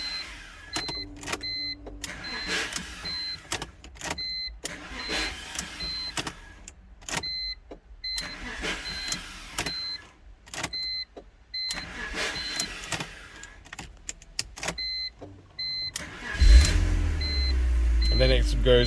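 Car engine cranked over by the starter, firing and running, then shut off and cranked again, a repeating cycle with electronic chimes and a rough, louder start near the end.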